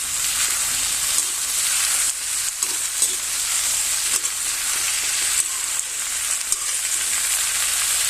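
A potato, beetroot and banana flower mix sizzles steadily in a hot pan while a spoon stirs it, with soft scraping knocks scattered through a constant close frying hiss and no talk.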